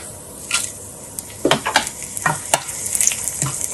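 Whole cumin, bay leaves, cinnamon and whole red chilies crackling in hot oil, giving a run of sharp, close pops and sizzling bursts of uneven rhythm over a quieter frying hiss.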